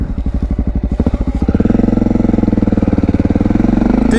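A Honda XR650L motorcycle engine runs close by, its single-cylinder thumping steady at first, then picking up into a faster, denser throb as the rider sets off on a cold, snowy road.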